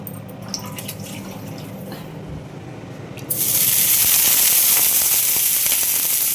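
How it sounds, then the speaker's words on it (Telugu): Water splashed onto a hot dosa pan gives a sudden loud hiss that jumps in and holds steady, bright and close, after a stretch of quieter kitchen noise. "మళ్ళా ఇప్పుడు కొంచెం నీళ్లు పోసి"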